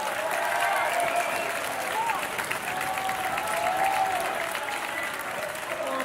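Audience applause at a corporate launch-week event, a dense, steady wash of clapping that fills the whole stretch at even volume, with some crowd noise mixed in.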